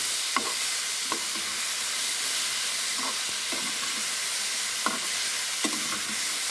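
Vegetables, including drumstick and bitter gourd, fry steadily in hot oil with a constant broad sizzle, broken by several soft stirring scrapes and clicks.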